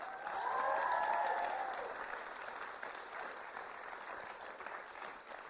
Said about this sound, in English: let's give one big round of applause for them